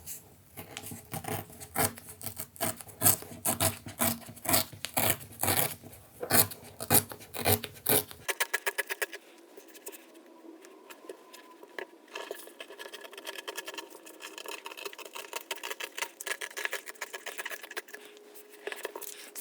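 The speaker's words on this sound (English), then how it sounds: "I'm tearing strips in different widths just for interest when I glue them all down" Paper strips are torn by hand for chipboard decorations. The sound is a long run of close, scratchy rips and rustles with uneven rhythm, and it grows thinner and lighter after the first several seconds.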